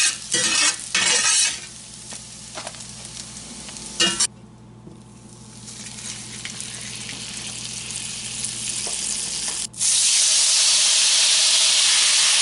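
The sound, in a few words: potatoes frying in a pan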